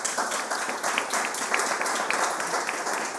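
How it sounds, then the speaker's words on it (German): Audience applause fills a German evening talk event, a steady wash of many hands clapping at moderate level, continuous throughout with no voices standing out. "Applaus"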